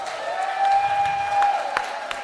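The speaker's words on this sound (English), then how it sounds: "Please put your hands together for Lepashos Bosse" Audience clapping fills a women's conference hall in Addis Ababa as a speaker is introduced, a steady sustained wash of applause with a faint tonal hum running underneath.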